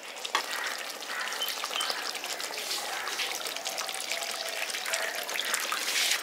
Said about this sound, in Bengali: এবার এর মধ্যে আমি জল দিয়ে দিচ্ছি।